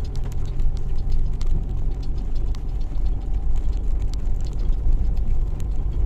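A car in Ukraine picks up speed, its engine a loud, continuous low rumble with scattered ticks and rattles running steadily throughout, with no talk.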